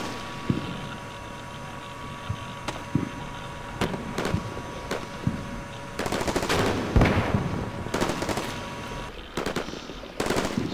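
MGL 140 grenade launchers and other weapons firing at an enemy bunker in the Combat Mission Shock Force war game, scattered sharp reports building into heavier overlapping bursts of gunfire with distant rumble.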